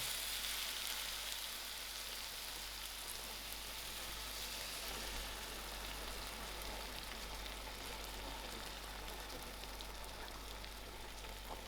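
Tamarind (imlee) pulp hits a hot pan in dhal-making and sizzles steadily, a dense, even crackle close by with no talk.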